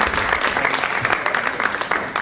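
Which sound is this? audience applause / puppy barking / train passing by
audience applause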